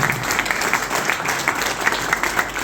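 An audience claps at the official launch event for DT Farming, a thick continuous round of applause with scattered sharp claps standing out and little voice underneath.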